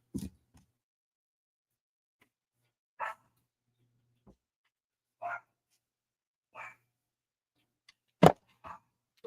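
A dog barks in short separate bursts, about six sharp barks spread out with quiet gaps between them, fairly close and with no talk over them.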